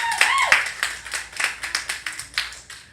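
A church congregation claps for mothers, a short burst of applause that thins into a few rhythmic hand claps, heard fairly close with some cheering voices at the start.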